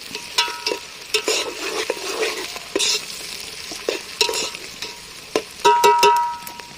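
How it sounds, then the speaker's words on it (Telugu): Mint leaves fry with onions in a pan for a mango mutton curry. A soft sizzle is broken by sharp, irregular stirring scrapes and clinks of a spoon against the pan. "పుదీనా కూడా ఇలా మంచిగా గోలుతుంది."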